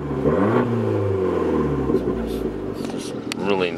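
A 2012 Fiat Abarth car engine revs up and falls back at close range, a steady throaty drone with pitch sweeps, while a voice talks over it.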